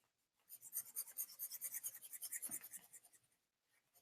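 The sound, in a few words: erasing pencil marks on paper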